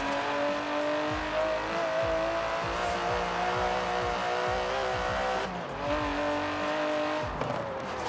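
An Aston Martin DB11 in Forza Horizon 4 driving hard, its engine revving through repeated gear shifts with rising pitch sweeps, loud and steady, with a brief dip and recovery midway.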